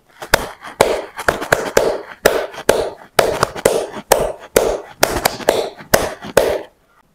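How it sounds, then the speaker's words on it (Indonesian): Rhythmic group clapping in the Kadarkum pattern, 17 claps grouped 2-3-2-3-2-3-2, with sharp, loud hand claps arriving in clear pairs and triplets. The claps are close and stand alone, with no talk. "tepuk kadarkum yang berjumlah 17 kali tepukan dengan komposisi 2-3-2-3-2-3-2"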